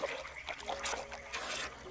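Water trickles from a hose pipe used for rinsing, an uneven splashing and dribbling in irregular bursts, close by, with faint voices in the background.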